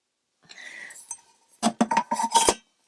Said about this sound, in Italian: Le nostre magnifiche tazze, eccola qua.